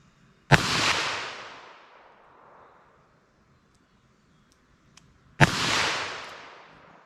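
Two loud, sharp shots from .22 Magnum and 9mm Hornady Critical Defense Lite loads, fired about five seconds apart at an outdoor range at 75 yards. Each shot booms and then echoes and decays for over a second.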